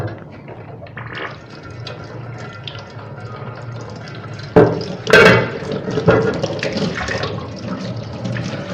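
Tap water runs steadily into a sink while dishes are washed at home, with splashing bursts and faint clatter partway through, fairly close and with no talk.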